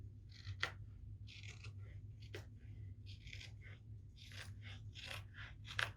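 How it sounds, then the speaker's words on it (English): Scissors cut across a T-shirt just under the armpits in a series of short, crisp snips with pauses between them, quiet and close up, over a low background hum. "So let's get our scissors, and right under the armpit, just go straight up across to the other armpit."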